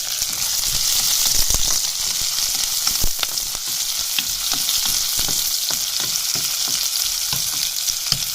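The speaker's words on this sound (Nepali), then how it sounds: "अब मैले यसमा प्याज पनि राखेँ र यसलाई मजाले चलाउनु पर्यो" Chopped onion fries in hot oil with garlic for a Nepali fish curry, a loud steady sizzle broken by the scrape and knock of a spoon stirring through the pan.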